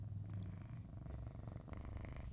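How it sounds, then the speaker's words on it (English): A soft, steady purr rumbles close up in slow repeating waves, quiet and continuous with no voices. "You hear him purring?"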